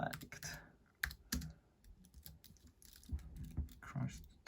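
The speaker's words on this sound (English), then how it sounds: "typing with one hand is hard." Someone types on a computer keyboard with one hand in short, uneven bursts of close, crisp key clicks with pauses between them, over a faint background and no clear talk.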